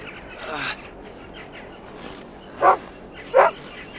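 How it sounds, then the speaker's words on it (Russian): A dog gives two short, sharp barks close by in the second half, after a fainter yelp near the start, during a tense outdoor scuffle with a loose dog being called back. "Уберите собаку!"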